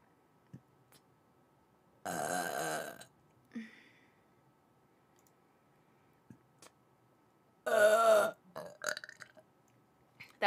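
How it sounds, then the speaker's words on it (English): A VTuber lets out two loud, drawn-out burps, the second sounding like two merged into one, separated by quiet gaps with brief clicks and soft mouth noises between them. "That was like two burps in one."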